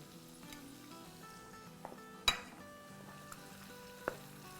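Spices for chicken masala fry in hot oil, a soft continuous sizzle with faint tonal whines, punctuated by a sharp utensil clink and a few lighter taps; close but quiet, with no talking.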